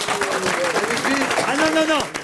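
Studio audience applause on a French comedy panel show, a dense wash of clapping with several voices talking and laughing loudly over it throughout.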